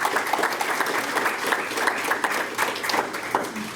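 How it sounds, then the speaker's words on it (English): An indoor audience at a community meet-and-greet for an independent living project applauds steadily, with dense, even clapping from many hands that carries through the whole stretch without talk. "let's give David a round of applause"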